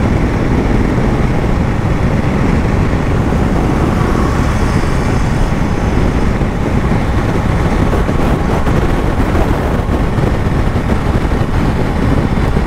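Steady, loud roar of wind buffeting and road noise while riding a Triumph Tiger Sport 660 motorcycle, with the engine droning underneath throughout.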